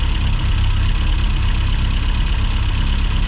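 A Mini John Cooper S Sport 5 idling roughly, a close, loud and steady low engine drone with a faint uneven pulse and no talking.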